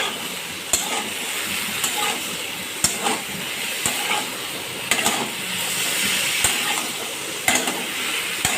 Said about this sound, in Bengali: এইবার আমি বেশ কিছুক্ষণ ধরে কষাতে থাকবো